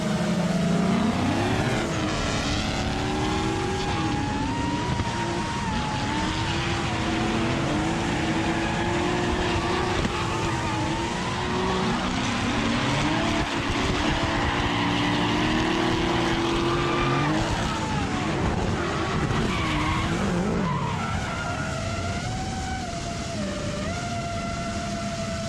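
A pro-am race car drives hard on track, its engine note rising and falling through shifts with long whining tones and continuous loud road and tire noise, no talk over it.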